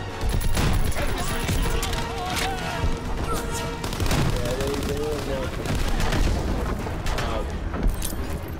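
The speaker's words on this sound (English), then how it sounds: "They fire on the infantry by the tank!" Dense, continuous gunfire in Call of Duty WWII pours onto infantry near a tank, with rattling machine-gun bursts, booms and crashes blending into a loud wall of battle noise, and voices calling out underneath.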